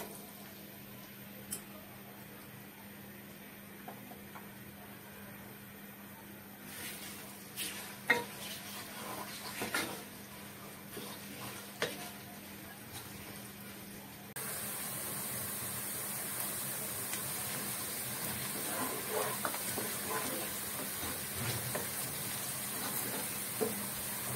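Chopped onions go into hot oil with cardamom, pepper and cloves for a Bengali chicken curry (murgir mangsho bhuna), sizzling and being stirred, with pan scrapes. The sizzle grows louder and steadier partway through, and nobody speaks.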